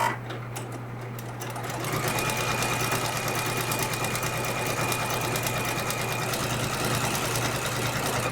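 A sewing machine running continuously while stitching a seam in light quilt fabric, a fast even whir with a steady hum, close and alone, speeding up after a soft start.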